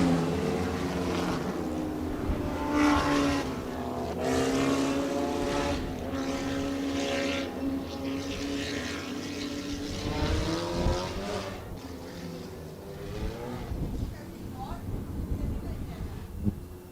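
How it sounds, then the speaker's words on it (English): Midget race cars with screaming Toyota Beams engines circle an oval track, their whining revs sweeping up and down at a middling distance while a commentator talks over them. "everybody loves to hear these Toyota Beams engines screaming as they go racing"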